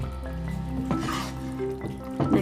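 Beef frying in a pan is stirred, a steady close sizzle broken by scraping and clattering stirs near the start and end, with no voices.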